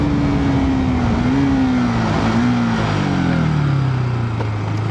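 A KTM RC 200 motorcycle with an upgraded chain accelerates hard, its engine a loud, continuous close drone whose pitch wavers and then drops through a gear change, heard alone without talk.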